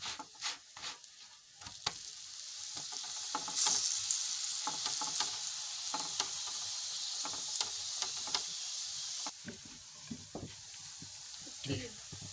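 A bajra roti cooks on a griddle with ghee, giving a steady sizzle with scraping and soft taps, close and moderate, while a voice speaks at times.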